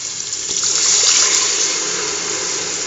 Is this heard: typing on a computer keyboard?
no